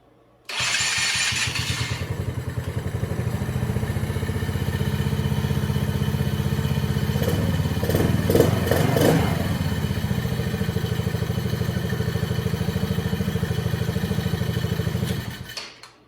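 A Polaris Outlaw 50cc four-stroke quad engine cranks and catches within the first second, then runs at a steady, clattery, close-up idle for about fifteen seconds before cutting off.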